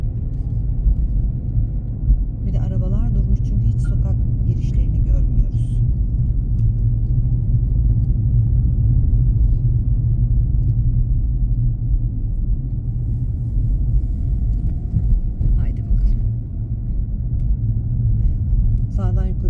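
A car engine hums and rumbles steadily with a low drone that swells slightly under light acceleration, while people talk faintly inside during a driving lesson on a two-way road.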